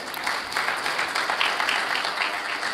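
Audience at a parents' conference at NTIC clapping together in a steady, dense wash of applause that holds at an even level throughout, with no voices over it.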